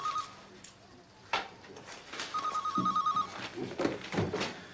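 A desk telephone rings in a police detective's office, several repeated electronic bell bursts, fairly close, with people talking over and between the rings.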